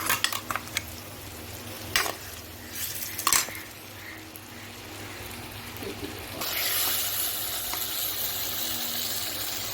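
Tomato puree gravy frying in a pan, first with scattered spoon clatter and scraping against the metal, then a louder, even, close sizzle that fills the last few seconds, with no voices.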